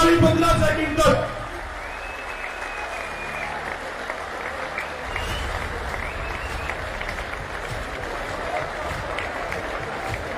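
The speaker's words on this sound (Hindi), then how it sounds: "एक बार सभी कलाकार भाइयों के लिए जोरदार तालियां बजा दीजिए।" A crowd at a farmers' protest rally claps loudly for the performing artists, a dense sustained applause that follows a brief burst of amplified voice and continues unbroken for several seconds.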